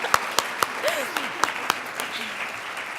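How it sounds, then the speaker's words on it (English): Brief, sparse applause from a panel audience at a leadership institute event, a few loud isolated claps standing out over a soft spattering of hands, with a voice murmuring faintly underneath. "they deserve a round of applause"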